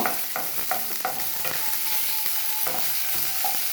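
Finely chopped ginger fries in a pan for coconut rice, a close, continuous sizzle broken by repeated sharp scrapes and taps of a stirring spoon.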